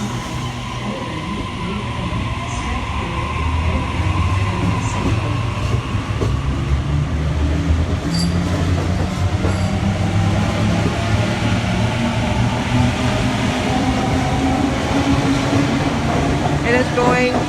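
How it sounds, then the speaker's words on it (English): A Sydney train pulls away from a platform at Parramatta station, a steady loud rumble of rolling wheels and motors with rising tonal whines throughout, close by and continuous, with a voice talking over it. "A68 is now departing on platform number 4."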